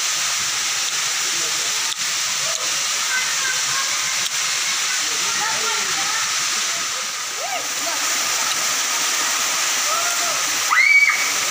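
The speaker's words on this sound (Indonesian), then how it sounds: "Ini dia di air terjun guys" Steady rushing water roars continuously from a tall waterfall in Tambunan heard close by, with faint chirps and a voice briefly near the end.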